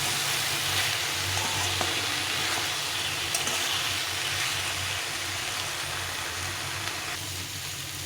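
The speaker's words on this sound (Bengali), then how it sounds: "এটা দিয়ে ভালো করে সবজিটাকে কষিয়ে নিতে হবে" Vegetables sautéing in a pan with cumin powder and chili powder, a steady close sizzle and frying hiss throughout with occasional faint stirring scrapes.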